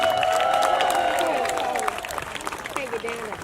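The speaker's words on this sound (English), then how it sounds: "Can we give another round of applause?" A rally crowd at an outdoor health and housing event gives a round of applause, a broad wash of clapping and cheering fading down under a speaker's voice and crowd murmur.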